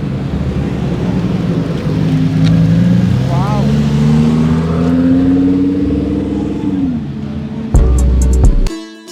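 Lamborghini engine in a street racing video game, a loud sustained roar that climbs steadily in pitch, then drops off sharply and gives way to a short burst of electronic game sounds at the end.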